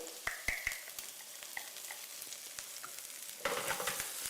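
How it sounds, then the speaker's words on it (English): Onion fries in hot oil with a soft, steady sizzle and scattered crackling pops, louder toward the end, heard up close without talk. "you put onion in there, one piece of onion. It's sizzling."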